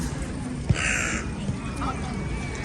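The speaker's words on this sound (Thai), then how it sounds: "ให้เบิ่งอีกาญี่ปุ่นพุ่นนะ อีกาญี่ปุ่นเอาบินบิน โตบักใหญ่" A Japanese crow gives a single clear caw near a park with cherry blossom trees and picnickers, against a background of steady outdoor noise while a person talks.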